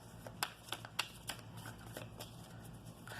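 Tarot cards being shuffled during a reading, giving a run of quiet, close riffling flutters and sharp card snaps, several distinct clicks early and a steady soft rustle after.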